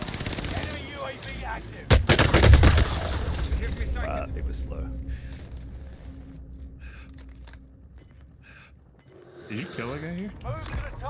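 Gunfire in a Call of Duty match, a loud burst of rapid shots near the start followed by scattered fainter shots and mechanical clatter, with a voice talking over parts of it.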